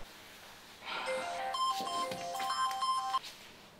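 A phone ringtone plays a short electronic melody, several bright beeping notes in a repeating pattern, moderately loud over a quiet background.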